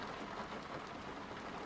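Steady rain falling in a video game with a thunderstorm, an even soft hiss of drops filling the short stretch without voices.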